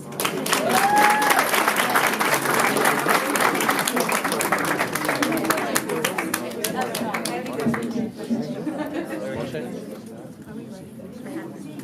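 Audience applause fills an awards ceremony hall, a steady dense clapping that holds strong for several seconds, then thins and fades toward the end while voices and murmurs rise underneath.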